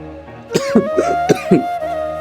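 A person coughing on a boat: a short burst of several close, harsh coughs over a low steady hum.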